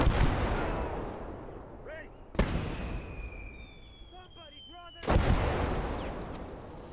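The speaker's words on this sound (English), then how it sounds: "Enemy machine gun!" An enemy machine gun fires in a war video game, heard as three heavy, booming blasts spaced a few seconds apart, with whistling and other battlefield noise between them.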